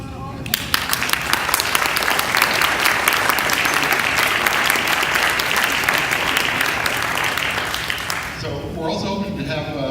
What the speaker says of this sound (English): I think we should give applause to all of you.